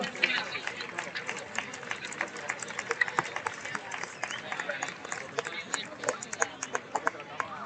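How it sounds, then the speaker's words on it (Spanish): Crowd applause at a 3x3 basketball tour finals awards ceremony, steady rapid clapping sustained throughout with scattered sharper claps, moderately distant, with voices mixed in. "Fuerte el aplauso."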